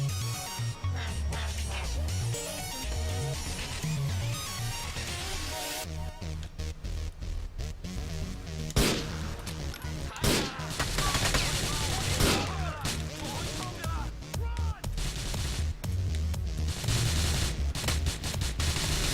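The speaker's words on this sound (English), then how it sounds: "See, they're shooting at the other guy." Gunfire in Grand Theft Auto IV, scattered bursts of shots mixed into loud, dense game sound with music and other effects, with sharp cracks standing out at intervals.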